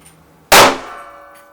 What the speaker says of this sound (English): Add a few drops of perchloric acid at room temperature and you get a powerful explosion.